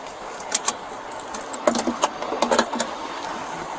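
Keys, including house keys and car keys, jangle and clink in a string of bright metallic bursts at close range over a steady low car hum, with no talk.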